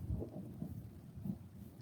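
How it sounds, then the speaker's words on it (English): Rain begins to fall near a forested deck while low thunder rolls in soft, repeated rumbles, a muffled patter underneath without any talking. "and it is starting to rain"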